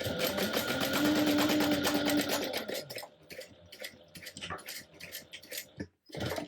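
A sewing machine bastes a small Odyssey mini tote bag, whirring steadily and close for about three seconds. Softer ticking and clicking of fabric handling follow.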